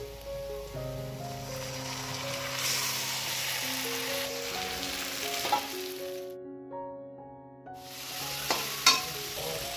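Marinated meat fries with browned onions in a pan, giving a low, continuous sizzle under steady tonal background sound. The sound cuts out briefly partway through, and a few faint clinks come near the end.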